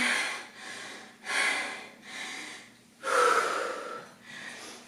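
Heavy, loud breathing after a round of a full-body cardio workout, with deep rhythmic inhales and exhales that repeat about five times in quick succession, close up and without speech.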